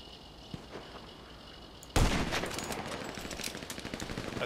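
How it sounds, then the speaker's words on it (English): Gunfire in the video game GTA 5: quiet ambience, then an abrupt loud burst of rapid automatic shots that keeps rattling in a dense, steady stream to the end. "People are already shooting somewhere."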